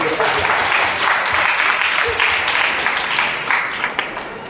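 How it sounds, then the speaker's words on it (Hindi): A church congregation claps during a sermon, a dense, steady wash of applause that holds for several seconds before thinning toward the end, with no talk over it. "आप ताली बजा रहे हैं"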